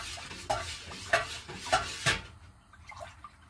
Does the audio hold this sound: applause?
no